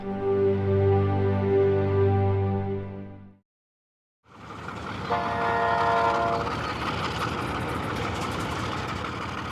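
Train on Namibia's oldest railway line: a loud sustained horn blast cuts off into a brief silence, then the rumbling clatter of rolling cars with another tonal horn-like sound in the middle.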